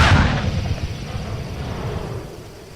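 A smoke bomb goes off in a Telugu feature film, a loud deep boom that rolls on as a dense low rumble and slowly fades over a few seconds, with no voices over it.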